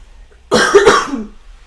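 A single close, sharp cough bursts out of near silence, a quick double-pulsed hack that trails off into a brief throat rumble.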